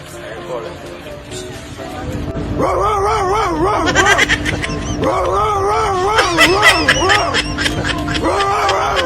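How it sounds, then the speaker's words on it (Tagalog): A big dog barks repeatedly in loud, deep bursts inside a passenger bus, with people talking around it in the enclosed, noisy space. "may malaking aso sa loob ng pampasaherong bus"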